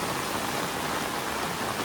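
Rain falling over village fields during a fishing outing, a steady even hiss of drops with no break and no voices.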